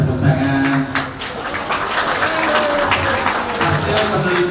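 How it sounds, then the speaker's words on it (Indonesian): Audience clapping at a school earthquake drill event, moderately loud and scattered, with voices and murmuring mixed in underneath. "Kita kasih tepuk tangan."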